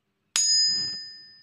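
A single strike sets a 288 Hz tuning fork ringing, its pure, steady metallic tone sustaining and gradually dying away, with nothing else audible.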